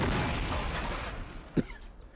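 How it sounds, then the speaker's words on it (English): A standard cannon fires once in a North & South mod line battle game, a single short boom with a brief low thump, heard alone against steady ambient background noise. "Yep, that's a standard cannon."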